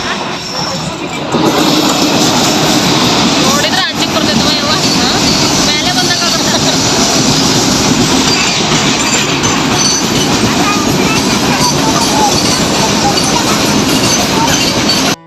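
A train rolls past a railway crossing during an evening temple fair, a steady, loud rumble of wheels and carriages that holds for the whole stretch, with faint voices under it.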